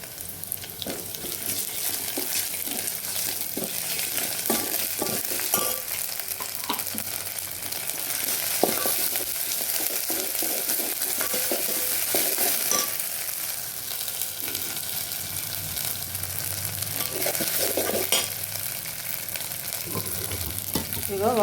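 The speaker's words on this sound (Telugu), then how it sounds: "ఇప్పుడు ఉల్లిపాయలు వేగాయి కదండి, అల్లం వెల్లుల్లి పేస్ట్ వేస్తున్నా." Ginger garlic paste fries with softened onions in a pan, producing a steady crackling sizzle, with stirring and scraping sounds throughout at moderate loudness.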